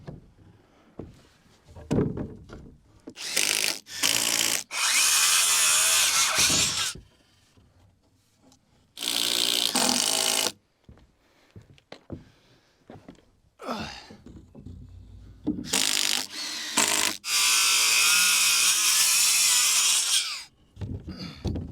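A power drill drives screws into wood during an off-grid building project, with three long, loud whirring bursts separated by quieter pauses filled with faint handling noise.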